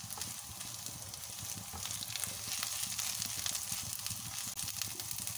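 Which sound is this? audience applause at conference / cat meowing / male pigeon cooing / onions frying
onions frying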